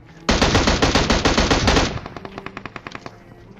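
Rapid automatic gunfire from a video game rattles out in a fast, loud burst of about a dozen shots, followed by softer, spaced-out shots trailing off.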